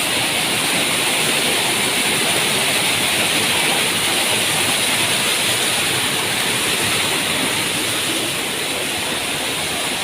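Waterfall seen up close for the first time, a loud, constant broadband roar of falling water with no breaks throughout.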